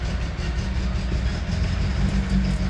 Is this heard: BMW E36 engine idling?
yes